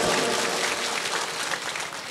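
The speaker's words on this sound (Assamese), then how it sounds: "এই ডেকাচাঙৰ বাবে এটা জোৰে হাত চাপৰি বজাব লাগে।" An audience at a motivational speech claps together, a short, dense and steady burst of applause from a crowd, with no speech over it.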